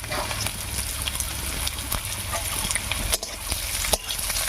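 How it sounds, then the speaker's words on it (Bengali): Chopped onion, garlic and green chili fry in oil in a pan for a taro-leaf dish, giving a steady close sizzle with scattered sharp crackles and no talk. "এবার একটু হালকা করে ভাজা ভাজা করে দেবো"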